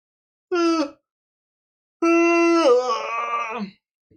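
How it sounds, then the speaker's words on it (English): A person gives two long vocal yawns, a short one followed by a longer drawn-out groaning one that falls in pitch, loud and close with silence between. "Shouldn't be yawning on stream."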